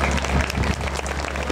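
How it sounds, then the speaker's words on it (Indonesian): An audience applauds at a Balinese Bondres comedy performance by Dwi Mekar Buleleng, a dense crowd clapping with a low hum beneath, steady and fairly loud. "Ingin dados tepuk tangan"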